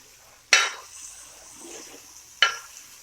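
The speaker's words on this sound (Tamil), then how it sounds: "இது மாதிரி பார்த்திங்கன்னா திருப்பி இப்படி போட்டிங்கன்னா 2 சைடு வேகும்." Fish pieces frying in a pan for a Mysore-style fish varuval are turned twice, each flip bringing a sharp burst of sizzle and a scrape. Between the flips a softer sizzle continues, with no talking.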